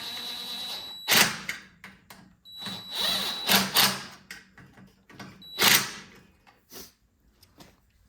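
A power tool drives bolts to reattach the intake on an Ariens snow blower during small engine repair. There are three separate whirring bursts, each a second or so long, with short quiet gaps between them, heard close up and with no talking.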